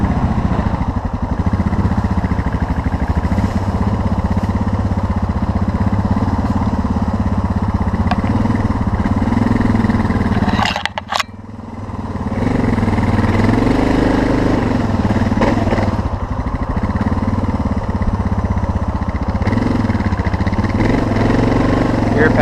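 A Suzuki DR650 dual-sport motorcycle of nearly 400 pounds runs on a muddy, partly icy off-road trail, its engine droning loud and steady, nearby, with a brief dip in the middle before the rumble returns.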